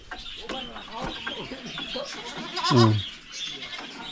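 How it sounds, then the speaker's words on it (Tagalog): A pet goat bleats loudly once amid people talking nearby, with faint bird calls in the background. "Yung sa ating alagang kambing."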